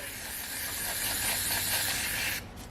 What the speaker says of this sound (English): We'll brake clean 2+2, carburetor cleaner, whatever you want. Let's get that oil out of there.